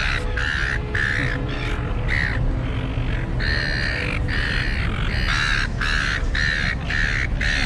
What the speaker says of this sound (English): got a lot of birds here